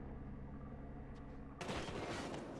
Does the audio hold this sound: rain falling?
no